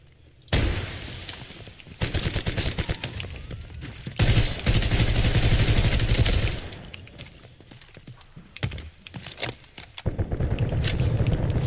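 Rapid bursts of video game gunfire with automatic weapon fire, interspersed with footsteps and scraping, loud and close throughout with brief pauses.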